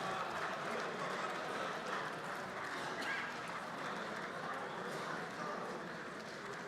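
Democratic Party lawmakers in the National Assembly chamber applaud as the president enters for a supplementary budget address, giving a continuous, dense and slightly distant patter of clapping that holds evenly throughout.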